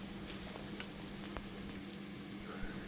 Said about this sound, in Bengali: এবারে আমি এখানে হলদি পাউডার দিয়ে দিচ্ছি 1 চামচ। দিয়ে একটু ভালো করে নেড়ে নিচ্ছি